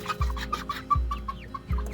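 Chickens clucking in a coop, a growing flock on a small two-acre farm, giving repeated close clucks and short calls in an uneven rhythm with brief pauses, with no voices.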